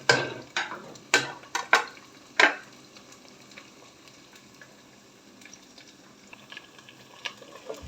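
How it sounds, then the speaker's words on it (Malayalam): Ginger, garlic and curry leaves frying in oil in a pan for Kerala lemon pickle, with several loud close scrapes and clatters of stirring at the start, then a soft steady sizzle. "ഇഞ്ചി, വെളുത്തുള്ളി, കറിവേപ്പില നന്നായിട്ട് മൂക്കട്ടെ."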